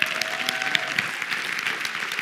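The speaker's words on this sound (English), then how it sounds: "give him a round of applause there" Steady applause from a crowd, broad clapping with a few sharper individual claps standing out, continuous for a couple of seconds.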